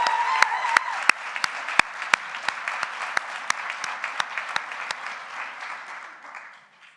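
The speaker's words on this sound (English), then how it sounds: "One more round of applause for the nursing organizational leadership." Audience applause at a nursing hooding ceremony, a steady wash of many hands with a few sharp, close individual claps standing out, gradually fading at the end.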